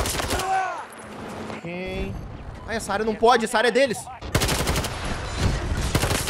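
Rapid automatic gunfire from the shooter game Battlefield 2042 bursts loudly near the end, following a player talking over quieter in-game sounds.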